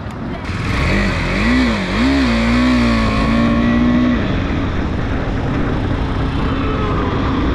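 A vehicle pulls away at the start of a road-trip stretch from Itahar toward Islampur on a Kolkata to Siliguri tour. The engine revs up in rising, wavering surges, then settles into a steady, close driving rumble.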